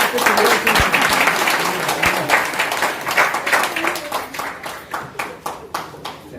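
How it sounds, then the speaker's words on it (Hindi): Applause at a marketing family gathering, a loud crowd clapping that begins dense, with a few voices calling out, then tapers into slower, distinct individual claps near the end. "जोरदार ताली के साथ"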